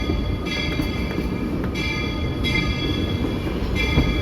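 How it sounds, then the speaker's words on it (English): The Walt Disney World Railroad steam train pulls into Main Street Station with a steady low rumble and rolling clatter, faint high squeals recurring over the continuous noise, and no voices. "As we're pulling into the station"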